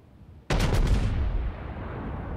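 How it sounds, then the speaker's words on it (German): A sudden heavy gun salvo from the Scharnhorst battleship in the World of Warships video game bursts in loud and close, a rapid cluster of booming shots followed by a lingering rumble. "deswegen hier dieser satte Schuss, der da richtig gut daneben gegangen ist"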